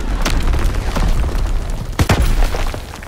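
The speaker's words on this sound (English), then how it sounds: "Firing primary battery." Heavy naval gun battery firing in Call of Duty WWII, a series of deep booming blasts with a loud cluster of shots near the end, rumbling low over a steady battle background.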